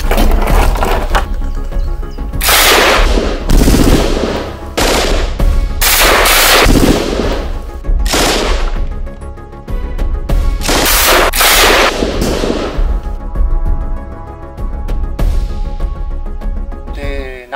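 Gunfire aimed at a church crypt window cracks out in loud rapid volleys and single shots, with short bursts repeating over many seconds and brief gaps between them.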